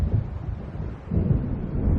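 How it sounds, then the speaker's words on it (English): Low, rolling thunder of an approaching storm in the video game Alan Wake, a steady dull rumble that swells again partway through, heard alone without talk. "It seems there's a storm coming."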